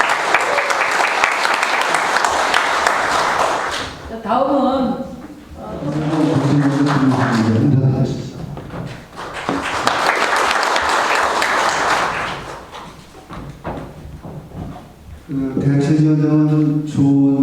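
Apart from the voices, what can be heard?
audience applause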